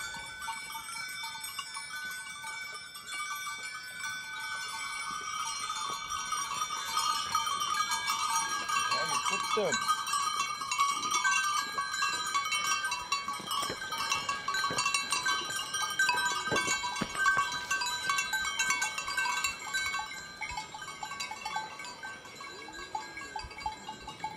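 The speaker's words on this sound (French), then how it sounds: "Se déplacer avec 100 chèvres sur les routes nécessite une grande organisation." A herd of about 100 goats moves along roads between alpine pasture and farm, with many clanking bells and scattered bleats forming a busy, continuous jangle throughout, some voices faintly mixed in.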